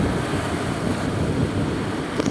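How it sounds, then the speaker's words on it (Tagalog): Rough sea waves and strong wind at a seashore in Dulag, a loud continuous roar of surf blended with gusty wind buffeting the microphone. "Ma medyo maalon kasi malakas ang hangin."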